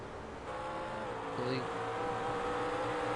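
McLaren race cars lapping a racing circuit: a steady engine drone with one car sweeping past near the middle, heard at a moderate distance beneath ongoing commentary.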